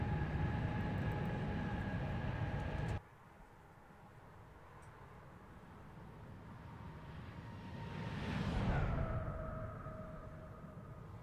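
A Magknight Boeing 787 in X-Plane 11, flying Gatwick to JFK in Norwegian livery, holds a steady engine drone that cuts abruptly to a quieter hum, then swells briefly with a rising whoosh before settling again.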